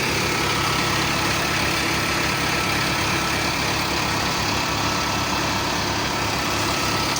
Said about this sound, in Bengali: কুটি মাড়াই করা হচ্ছে ঠিক আছে থ্রেসার দিয়ে